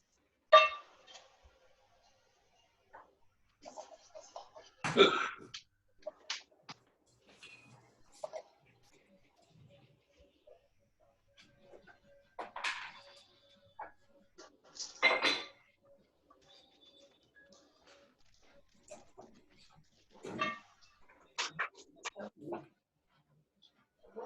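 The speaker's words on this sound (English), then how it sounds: "Wash pans." Baking pans being washed in a kitchen sink while making a chocolate cake, with scattered metallic clanks and knocks of varying loudness, mostly quiet and close, and faint voices nearby between the clatter.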